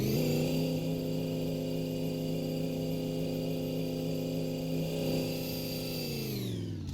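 A car engine held at a steady high drone on a dynamometer, strong harmonic hum throughout, then winding down at the end as the run finishes; no talking.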